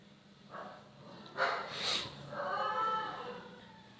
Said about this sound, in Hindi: एक तो कुत्ते बहुत है यार इस गली में